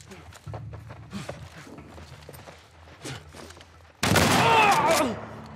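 Shotgun blasts in The Last of Us Part II ring out loud and broadband in the last second and a half, following quieter footsteps and combat noise, with someone talking over the game.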